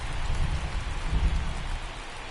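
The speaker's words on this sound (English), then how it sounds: "It's not raining as hard as it did when the game started." Steady rainfall in a baseball video game during a World Series game between the Dodgers and Red Sox at Boston, a dense, continuous hiss of rain with low rumbling underneath, fairly loud, no voices.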